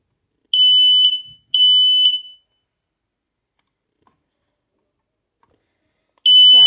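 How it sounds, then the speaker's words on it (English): Kidde smoke alarm under a press-and-hold test, giving two piercing shrill beeps close by, then a pause and a third beep starting just as the clip ends, with no talk. "Press and hold to test and test weekly, and I think this is what mine sounds like."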